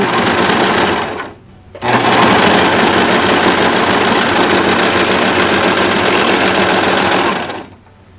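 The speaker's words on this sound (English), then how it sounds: "Simply take the clear elastic, run it through the machine," A serger runs loud and steady, stitching clear elastic onto stretch fabric, with a short pause near the start before the motor whirs again for several seconds and then stops.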